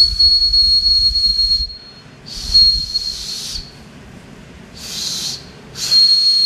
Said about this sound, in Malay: So bila dibaling dia akan bunyi bersiul.